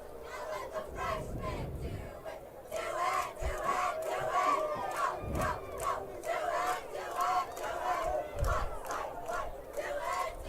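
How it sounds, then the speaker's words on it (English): A crowd at a varsity high school football game, Crete versus Lexington, roars and chants in waves at a distance, with rhythmic bursts of cheering throughout. "Crowd very much in this game."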